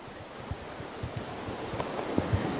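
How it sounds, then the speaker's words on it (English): Steady rain falls over a city on a long rainy day, a continuous hiss of drops with scattered soft thumps and patters, close and even throughout. "It had been raining for so long that even schools were shut."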